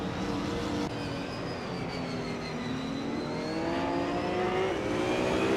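A 2021 Ford Mustang in the Trans Am class races in a video game, its engine droning steadily with rising and falling pitch amid other cars, loud and continuous with no talk.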